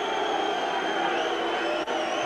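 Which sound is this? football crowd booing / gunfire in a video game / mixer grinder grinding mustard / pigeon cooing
football crowd booing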